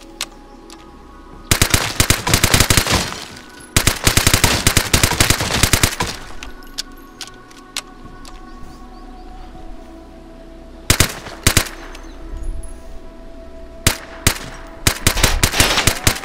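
An MP5 submachine gun fires in long, rapid automatic bursts in the game Vigor, loud and close, with several sustained strings of shots separated by quieter gaps holding scattered single cracks.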